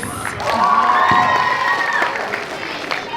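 Applause breaks out from the crowd at a school speech and debate awards event, steady clapping carrying shouted cheers and a drawn-out whoop, then tapering slightly.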